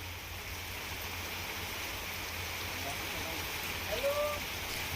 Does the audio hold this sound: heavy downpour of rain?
yes